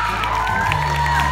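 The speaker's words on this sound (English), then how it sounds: "Let's give them another big round of applause." A crowd cheers and claps for shortlisted teams at a talent show quarter-final, a steady loud wash of applause with whoops, mixed with sustained music tones underneath.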